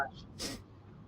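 A single short sneeze, a quick sharp burst of breath, fairly faint against a quiet room.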